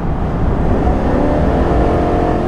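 A 2022 Chevy Silverado V8 pickup with a 10-speed transmission accelerates at highway speed, giving a steady, loud engine drone mixed with road and wind noise inside the cab.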